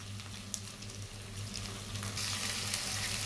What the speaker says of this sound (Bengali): পেঁয়াজ আর রসুনটাকে আমি একটু হালকা করে ভেজে নেব।